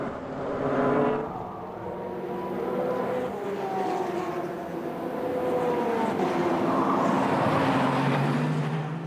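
Audi R10 race cars roar past at the start of the Le Mans 24 Hours, engine tones sweeping up and down as several cars pass by at high speed, loud and continuous with a washy crowd-and-track background.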